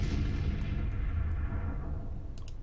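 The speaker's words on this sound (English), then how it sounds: "Artillery's opening up." Artillery fire in Grand Tactician: The Civil War, a Civil War strategy game, a continuous low rumble of distant cannon booms rolling together, with a few faint sharp cracks near the end.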